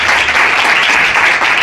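A theatre audience at a comedy show in Buenos Aires gives dense, steady applause, a close and loud wash of clapping with no break.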